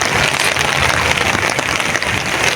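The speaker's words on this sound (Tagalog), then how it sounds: "sobrang lakas ng ng ulan" Heavy rain pours down hard on a surface near the North Luzon Expressway during a typhoon, a loud, dense, steady hiss with constant drumming and no gaps.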